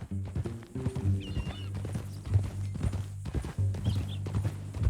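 Horse hooves clip-clopping in the video game Red Dead Redemption 2, a steady walking rhythm of close, distinct hoof strikes over a low musical drone.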